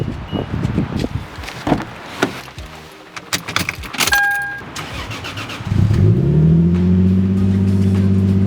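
A 900+ hp right-hand-drive Nissan R34 GTR with an RB26 engine cranks and catches after a jangle of keys and door clatter, then settles into a loud, steady, rumbling idle.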